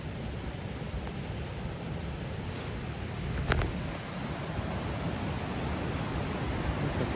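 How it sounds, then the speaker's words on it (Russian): A rushing creek near a campsite off a highway close to Lake Superior gives a steady broadband roar of fast water, loud and unbroken throughout, with a couple of faint clicks partway through. "Как вы уже слышите, тут бурная речушка."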